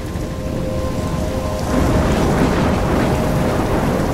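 Heavy rain pours steadily in the Life is Strange video game, a dense continuous storm wash that swells louder partway through as thunder rumbles low beneath it, with no voices.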